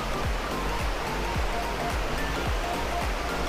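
Bega Falls in Prosperidad, Agusan del Sur, Philippines pours in a constant loud roar of rushing water, broad and steady, with faint thumps mixed in and no clear speech.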